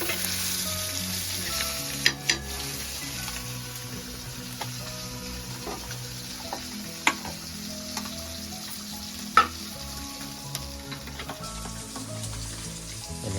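Onion, pomfret and mackerel frying in a pan on a wood-fired stove, a steady close sizzle with a few sharp ticks and clinks from the pan, no voices.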